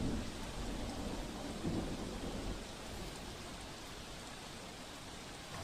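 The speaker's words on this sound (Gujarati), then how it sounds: "આઝાદનગરમાં પણ ભારે વરસાદથી જનજીવન અસ્તવ્યસ્ત થયું છે" Heavy monsoon rain pours steadily during flooding in Azadnagar, Surat, with a faint roll of thunder early on. The downpour is a dense, even hiss with no voices.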